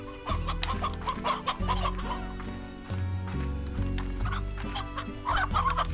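Roosters in the farming game Slime Rancher cluck in a steady stream of short, repeated calls over a continuous low musical backdrop, fairly quiet and with no talking.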